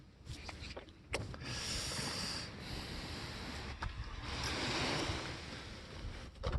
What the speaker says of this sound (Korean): 파도 소리도 들리고